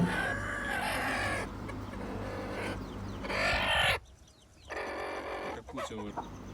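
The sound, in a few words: chickens clucking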